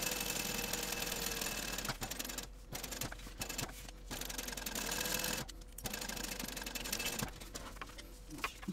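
A sewing machine basting all the way around mesh fabric with a long stitch at length 5 and a 1/8 inch seam allowance, its steady whirring running continuously near and loud with a few brief pauses.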